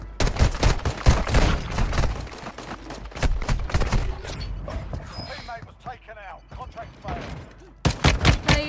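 Gunfire in Warzone Mobile, including sniper rifle shots, with dense bursts of firing and clattering throughout, a quieter stretch in the middle and a loud burst at the end, with voices talking over it.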